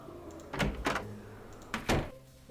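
A door in the Nancy Drew game The Haunted Carousel creaks and thuds through two pairs of short, muffled knocks or bumps over a faint low room hum.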